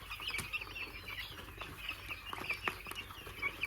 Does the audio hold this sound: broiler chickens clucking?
yes